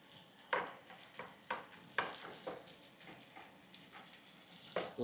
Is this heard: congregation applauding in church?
no